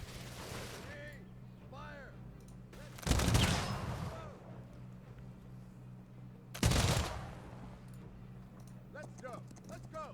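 Line infantry and conquistador troops firing in Humankind, two distinct loud volleys a few seconds apart, each a short rattling burst of shots, with faint clip-clop and ambient game sounds between them.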